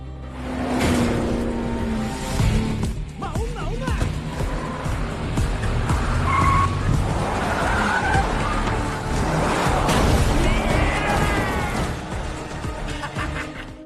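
Cars racing in a film chase scene: loud engines, repeated tire squeals and skids, and revving as vehicles swerve close by, all continuous and busy throughout.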